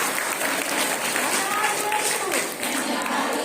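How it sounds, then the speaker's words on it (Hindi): A congregation at a Catholic Mass claps together in a steady, sustained patter, with voices sounding over the clapping. "hallelujah, hallelujah, Tali बजाइए"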